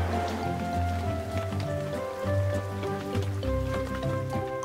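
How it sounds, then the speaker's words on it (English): Cartoon rain patters steadily over a farm scene where a truck, tractor and combine harvester sit outside, with soft drips layered under a bright, sustained musical score. "The truck, tractor, and combine harvester have been left outside in the rain."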